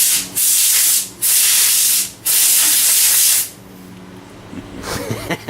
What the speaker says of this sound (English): We're cleaning some parts over there, drilling some holes, grinding some things.